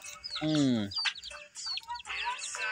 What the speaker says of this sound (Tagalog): Sisiw, binabahugan ko. Ay gutom na.